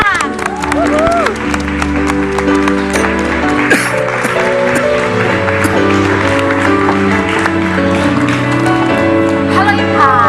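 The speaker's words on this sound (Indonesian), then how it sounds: "Langsung saja beri tepuk tangan untuk Ibu Eli Risman." Studio audience applause and cheering greet a guest on the Indonesian TV talk show Basa Basi, a steady crowd roar blended with loud band music throughout.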